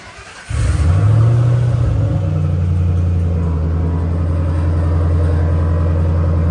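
A Mustang engine cranks and fires up, then settles into a loud, steady low exhaust rumble at idle, close by, before an exhaust change.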